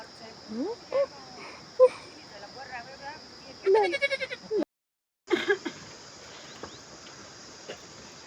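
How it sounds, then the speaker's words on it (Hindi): A male goat bleats repeatedly on a hillside farm beside harvested fields, with loud, close, wavering calls in bursts and a short silent gap, over a steady insect hiss. "ये अजीब सा बकरा आ रखा है।"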